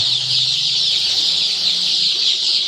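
Twenty-two-day-old Andijan black chicks cheep in a constant high-pitched chorus, many birds calling together without a break, loud and close.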